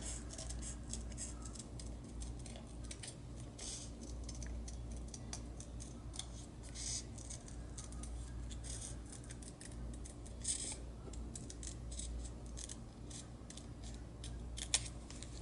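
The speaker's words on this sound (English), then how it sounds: "when you're finished cutting this circle out" Scissors snipping through paper to cut out a circle for a flip card, a continuous patter of small crisp cuts at close range over a steady low background hum.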